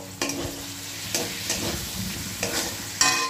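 Chopped tomatoes sizzle in a spice masala on a low flame while a spatula stirs and scrapes the pan, with several distinct scraping strokes over a soft, steady frying hiss.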